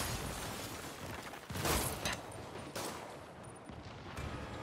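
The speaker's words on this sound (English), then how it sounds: "Dodge rockets?" Rocket blasts and gunfire from an RPG attack in the Marvel's Spider-Man PS4 game: a dense, noisy barrage with two sharp bursts standing out mid-clip, loud and close, no talk.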